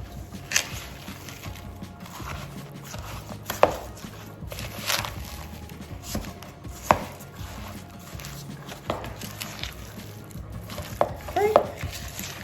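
Hands squish and knead a Beyond Beef meatball mixture seasoned with black pepper, making soft, irregular wet squelches with scattered sharper clicks, close and steady throughout.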